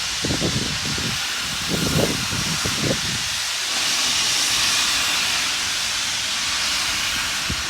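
Steam locomotive Braveheart hissing loudly and steadily at Paignton station, a continuous broad hiss with some low rumbling pulses early on, close and without talk.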